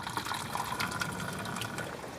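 Flushed coolant and fresh water drain from a car's cooling system into a sample container, a steady, faint splashing pour with no talk over it.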